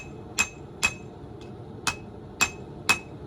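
A cross peen hammer strikes a Damascus steel knife blank to forge the bevels. There are six sharp, ringing metallic blows at slightly irregular half-second intervals, one of them lighter, heard close with no voices.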